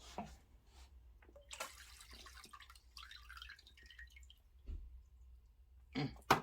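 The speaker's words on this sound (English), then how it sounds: "I just pretty much fill up that small pot that I showed you with water." Tap water running into a small pot during betta fish tank maintenance, soft intermittent splashing and dripping at close range, faint and quiet with a louder splash near the end.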